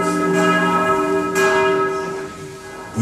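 Church bells ring loud and resonant, with fresh strikes roughly every second over long, humming overtones that keep sounding between the hits.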